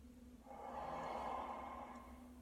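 A euphonium student takes one audible breath before playing, a soft, drawn-out airy inhale lasting about two seconds, close and alone.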